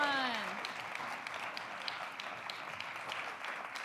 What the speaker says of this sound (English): All right, a round of applause for Kat.